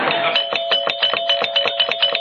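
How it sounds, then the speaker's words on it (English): A doorbell rings insistently, giving a rapid run of about a dozen sharp, bright chimes in quick succession. The ringing is close and clear, with no other sound. "I think I detect her gentle touch on the doorbell."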